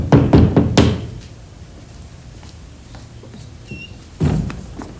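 Several quick raps on a house door, a brisk cluster of sharp knocks, then a quiet pause and one more knock near the end, loud and close with no talk.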